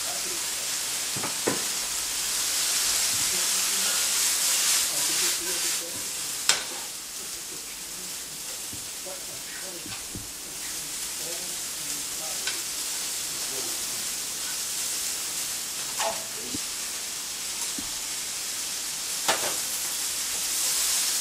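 Vegetables for chicken chow mein stir-fry in a hot wok with a steady, loud sizzle and hiss, broken by occasional clanks and scrapes of the spatula tossing them.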